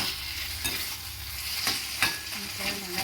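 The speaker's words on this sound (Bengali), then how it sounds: "এই দেখুন কড়াইটি দিয়ে একটু ভালো করে নেড়ে নেড়ে" Pumpkin pieces stirred and fried in a kadai, with a steady sizzle and repeated scraping stir strokes close by and no talking.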